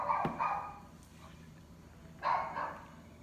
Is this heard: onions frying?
no